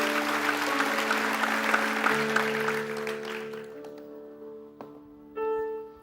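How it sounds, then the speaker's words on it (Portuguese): A church congregation claps at an evening worship service, the clapping thinning out and fading over a few seconds while sustained keyboard-like musical tones ring underneath and carry on alone toward the end. "Dê um aplauso bem forte a Deus"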